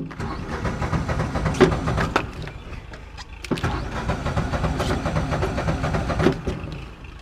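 Small engine cranked over and over after choking, a rough churning starter sound in two long bursts separated by a brief pause, without catching.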